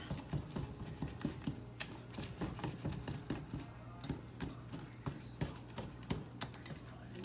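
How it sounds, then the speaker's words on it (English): Rapid rhythmic clicking of a whisk beating a casserole mixture in a bowl to break up lumps, steady and close, with a low hum underneath. "I'm gonna whisk it real quick. Get some of these lumps out."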